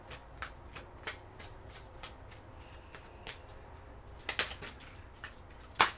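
Tarot cards being shuffled by hand, a quiet close series of soft riffling flicks and taps in an irregular rhythm, with a couple of sharper snaps of the deck near the end.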